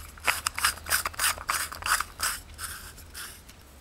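Quick, dry plastic clicks and scraping rubs repeat in short bursts as the base of a 20 W compact fluorescent lamp is twisted, fairly close and quiet.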